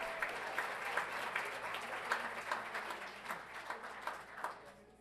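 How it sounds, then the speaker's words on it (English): Applause from an audience at a school governing board meeting honours Aaron and Los Sendas Elementary School, a moderately distant crowd clapping steadily and gradually fading. "Let's have a round of applause for Aaron and those wonderful folks at Los Sendas Elementary School."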